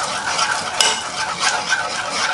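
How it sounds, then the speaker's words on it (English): A small spoon stirs chicken carbonara in a pan with a continuous close scraping and swishing and one sharp little clink partway through. No talk. "I use the small spoon and stir that around."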